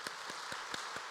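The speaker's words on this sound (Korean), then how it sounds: "하나님께 영광의 박수." A church congregation claps during a Sunday worship service, a short burst of evenly spaced, rhythmic claps from a room full of people.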